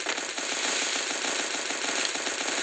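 Rapid bursts of gunfire fill a clash squad video game match, a steady dense rattle of shots running throughout at close, loud level with no talking.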